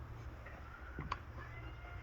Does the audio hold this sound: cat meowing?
yes